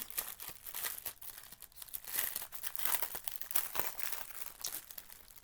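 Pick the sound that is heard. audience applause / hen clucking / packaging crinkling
packaging crinkling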